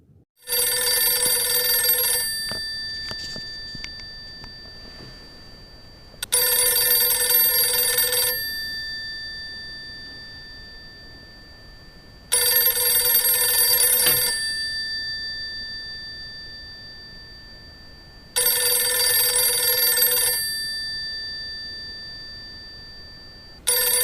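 An unplugged landline telephone rings on its own in five clear, evenly spaced bursts of bright electronic trilling separated by silent pauses, with no voices.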